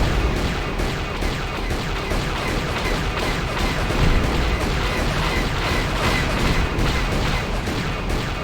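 Explosion in Knights of the Old Republic, part of a dense, continuous roar of blasts and battle noise that stays loud and unbroken throughout.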